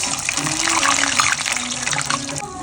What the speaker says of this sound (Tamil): அதுல தண்ணி தெளிச்சுட்டேடி நீ.